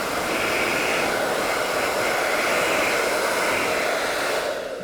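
A white KYANA 2100-watt hair dryer blows steadily up close, a loud and even motor whoosh that holds for several seconds and tails off at the end, with no talking.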